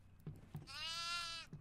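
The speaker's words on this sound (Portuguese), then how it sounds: "Está aqui uma cabra." A single drawn-out goat bleat in a video game, wavering and nasal, preceded and followed by a few soft thumps and clicks.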